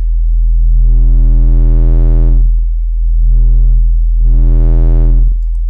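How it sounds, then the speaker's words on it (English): Steady sine tone pushed through wavetable waveshaping distortion in a synthesizer plugin, heard in three loud sustained bursts whose harmonics thicken and thin as the input drive is raised and lowered. "The input drive, the higher the drive, the more it distorts."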